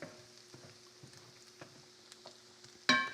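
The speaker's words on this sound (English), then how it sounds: "Just keep letting the shallots and that garlic cook." Shallots and garlic sizzle in a pan during a chicken Florentine recipe, with a soft, steady fry and occasional stirring clicks. A louder scrape or clatter comes near the end.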